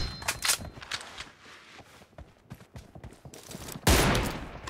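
Gunfire in PUBG Mobile, heard as scattered sharp shots and quick volleys that ring out at moderate loudness, ending in one loud close blast, mixed with faint footsteps-like clatter.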